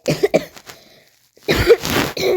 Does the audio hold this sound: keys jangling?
no